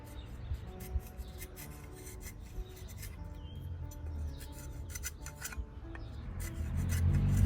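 A Darien machete carves a wooden spoon in a run of close, rasping scrapes and shaving strokes. The strokes repeat at an uneven pace over a low background rumble that grows toward the end.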